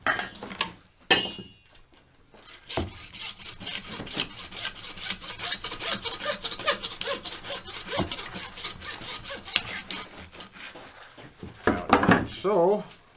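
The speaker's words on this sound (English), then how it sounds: "Use our saw again to take that portion." A handsaw cuts through pig bone at the elbow joint during butchering, a steady run of rapid rasping back-and-forth strokes close up, with brief pauses and a voice speaking at the start and end.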